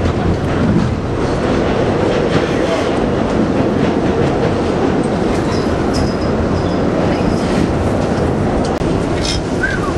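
A Queens-bound W subway train in New York City rumbles loudly past, steady clattering wheels and roar throughout, with faint squeals and indistinct voices in the mix.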